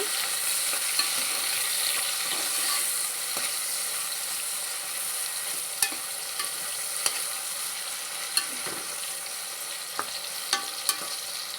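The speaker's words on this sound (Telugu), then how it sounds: "అవి కూడా మెత్తంగా ఫ్రై అయిపోవాలండి టమాటాలు కూడా" Tomatoes for a drumstick and boti curry fry steadily in a pan, a continuous close sizzle broken by sharp clicks and taps as a spatula stirs; no talking.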